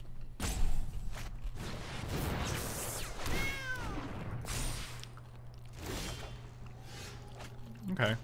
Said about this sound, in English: when you play a Charm Stray, it goes mow.